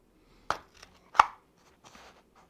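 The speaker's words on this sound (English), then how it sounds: "I'll grab an X-Acto knife here. Gonna make an incision in the middle." An X-Acto knife cuts an incision into a part during a ring gear change on a Traxxas X-Maxx RC car differential, giving two sharp close clicks or snaps followed by fainter scraping.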